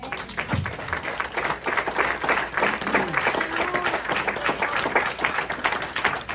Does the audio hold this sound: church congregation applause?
yes